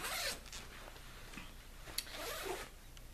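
The zipper on a large, very soft pillow is pulled open in a few close, rasping strokes, with quieter rustling of the fabric between pulls.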